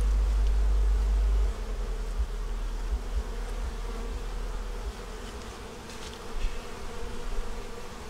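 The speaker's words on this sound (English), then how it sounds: "Bees under there eating." Honey bees buzz steadily at a beehive in winter, a dense continuous drone close to the hive with a faint low rumble beneath, no voices.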